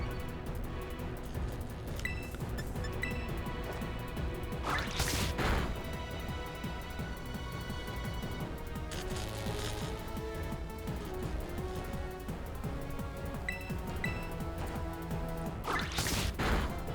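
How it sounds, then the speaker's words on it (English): In the Pokemon Scarlet video game, sharp whip-crack effects from a move snap out three times at even intervals over a steady game soundtrack. "Why does it do like the whip crack sound effect from like Johnny Test when that move goes off?"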